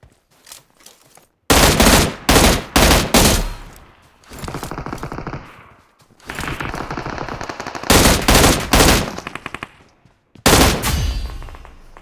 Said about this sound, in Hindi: फिर गन साउंड आती है दोबारा